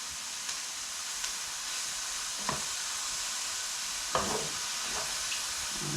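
Onions, garlic and mushrooms sauté in a pan for risotto, giving a steady soft sizzle and hiss with a few light clicks of a stirring utensil, quiet and with no talking.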